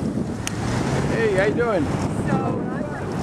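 Strong wind buffeting the microphone outdoors on a sandy stretch, a continuous loud rumble under a man's brief spoken greeting.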